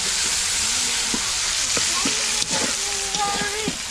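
Spices crackle and sizzle in hot oil for tempering in a home kitchen, a loud steady hiss with scattered pops and stirring clatter close by.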